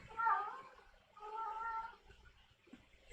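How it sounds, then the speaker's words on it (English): A cat cries mournfully in two drawn-out, wavering meows separated by a pause, moderately near, followed by a faint shorter sound. "Boy, doesn't that sound mournful,"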